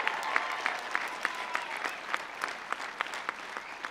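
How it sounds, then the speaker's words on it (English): Applause from a crowd at a commencement ceremony, continuous and moderately distant, with individual sharp claps standing out over the steady wash of clapping. "Oh, they deserve another round of applause."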